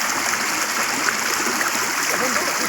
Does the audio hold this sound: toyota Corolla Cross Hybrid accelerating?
no